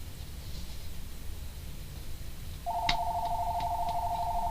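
An electronic telephone starts ringing partway through, a steady warbling trill that continues to the end, loud and close over a quiet room hiss with a brief click just as it begins.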